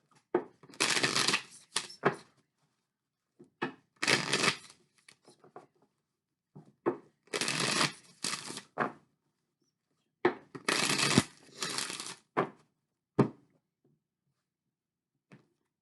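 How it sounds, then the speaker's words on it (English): Oracle cards being shuffled by hand in several bursts of dense riffling and slapping, each lasting a second or two with short quiet gaps between, close and fairly soft with no talk. "So let me just get an oracle card here."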